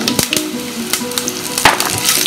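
Curry leaves dropped into hot oil with mustard seeds and roasted gram for rava idli tempering, crackling in a steady close sizzle with sharp pops and splutters throughout.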